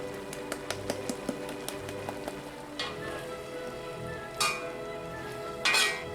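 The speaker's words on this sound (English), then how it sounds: "we keep stir frying until the liquid thickens and we have a thick and gooey syrup" Apple pie filling with butter, white and brown sugar, salt and cornstarch sizzles steadily in a cast iron pan, with soft utensil scrapes and occasional louder clinks as it is stirred, no talk.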